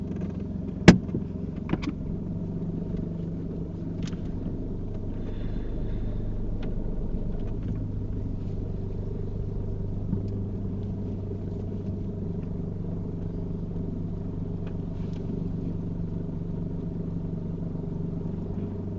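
A car idles and creeps backward into a parking space during a UK mock driving test, a steady low engine rumble holding throughout with a faint click near the start.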